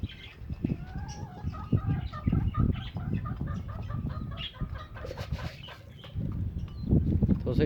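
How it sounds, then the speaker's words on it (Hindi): Chickens and roosters cluck and chatter steadily while feeding nearby, a busy, close flock with overlapping calls and faint scratching throughout. "मुर्गे भी खा लेंगे"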